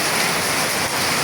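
Heavy rain pours steadily and loudly as a dense, unbroken hiss with no gaps, drenching riders on a motorcycle during a drive.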